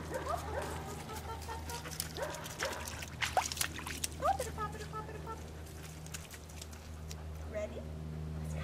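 A herding dog barks in short bursts during an instinct evaluation with livestock, the barks rising over steady background noise while people talk nearby.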